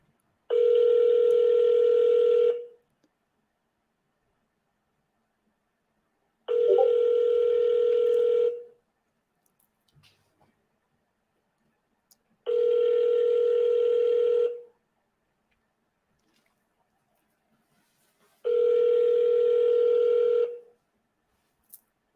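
Four evenly spaced ringback tones sound on a telephone call, each a steady two-second electronic purr followed by several seconds of silence, clear and alone.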